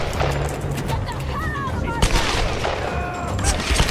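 Gunfire in the video game Tomb Raider (2013), rapid shots and impacts over a busy combat din, with sharp cracks standing out near the middle and end of the clip.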